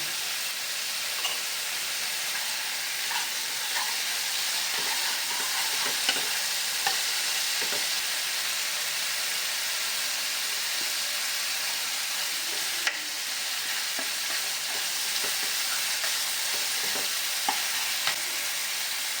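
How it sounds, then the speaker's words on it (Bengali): Spice paste with chopped tomato being stirred and fried for a chital fish curry with potato, aubergine and bori, a continuous loud sizzle with occasional spatula scrapes and clicks throughout. "মশলাটা কষা হয়ে গেছে"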